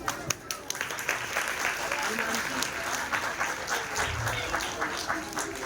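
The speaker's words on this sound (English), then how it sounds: "Then let's all have a huge round of applause." Lively applause from schoolchildren at a Guru Nanak Jayanti special school assembly, a dense crowd of claps with voices mixed in beneath, steady and moderately loud for the whole stretch.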